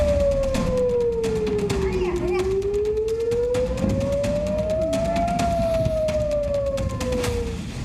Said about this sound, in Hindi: इजराइल के तमाम शहरों में पूरी रात इजराइल के सायरन बजते रहे